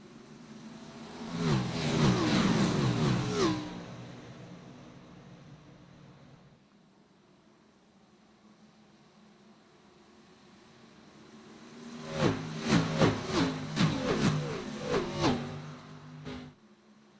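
Race car engines roar past at a green flag start at Indianapolis in a sim racing game, two loud bursts of revving, rising engine notes with a quieter lull of distant engine drone between them.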